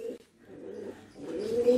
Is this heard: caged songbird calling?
yes